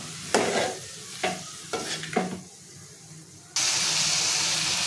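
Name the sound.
stirring and mixing masala in a pan for prawn curry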